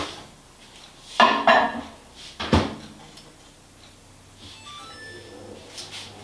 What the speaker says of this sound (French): Donc je pars au micro-ondes, je le mets 1 minute.